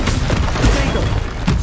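A Confringo spell explodes in Hogwarts Legacy, a loud, close blast whose broad rumbling booms and crackle run across the moment, with no talking.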